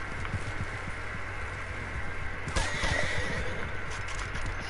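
A horse in the video game Red Dead Redemption 2 lets out a loud whinny around the middle, over steady clip-clop of hooves and a continuous game ambience, with no talk.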